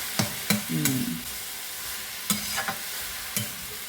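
A spoon scrapes and knocks through a leafy vegetable curry in a pan, several distinct stirring strokes over a soft, steady sizzle.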